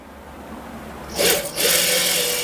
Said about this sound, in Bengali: আমরা এখন মেশিনে সেলাইটা দেখব যে সেলাইটা কিরকম হয়